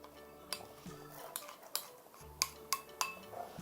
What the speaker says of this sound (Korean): 천천히 저어주세요